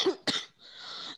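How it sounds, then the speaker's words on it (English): One person gives a big, close cough followed by a quick throat-clearing rasp, then a short breathy exhale, with nothing else heard. "Let me have a big cough first."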